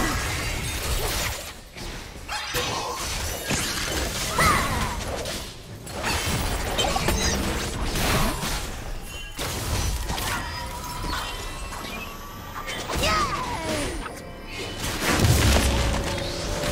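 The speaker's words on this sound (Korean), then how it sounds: "빨간 팀의 포탑이 파괴되었습니다" A turret is destroyed in League of Legends: heavy booms and shattering crashes ring out over a dense, continuous wash of game effects, with whooshes and mechanical clanks throughout.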